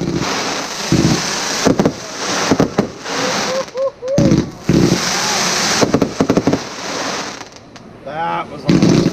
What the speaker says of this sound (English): City fireworks might be higher, but not like this.